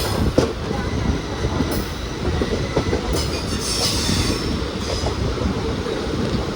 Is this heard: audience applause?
no